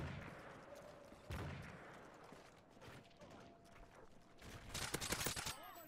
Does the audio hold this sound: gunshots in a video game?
yes